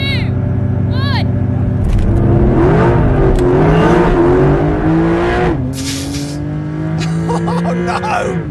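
A new Porsche 911 accelerating at the start of a race, its loud engine tone rising and falling through the revs with tire noise, while voices are briefly heard over it.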